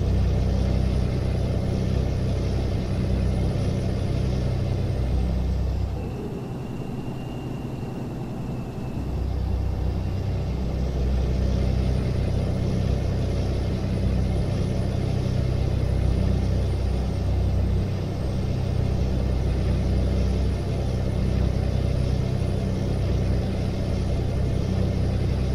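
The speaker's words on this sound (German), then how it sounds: "weil ich mit meinem kleinen untermotorisierten DAF da vorbeikommen werde" Steady low engine rumble of an underpowered DAF truck in Euro Truck Simulator 2, droning continuously and close with a brief dip midway, no talking.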